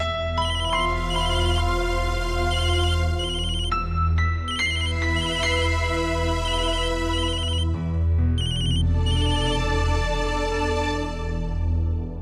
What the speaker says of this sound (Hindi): फोन। हाँ तो उठा ना।